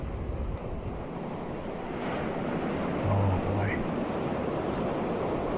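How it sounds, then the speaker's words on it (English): Ocean waves recorded at Playa de Piticabo, a continuous broad roar of surf with wind noise buffeting the microphone, steady and fairly loud throughout. "YouTube video titled The Most Relaxing Waves Ever. Playa de Piticabo Ocean Sounds to Sleep, Study, and Chill."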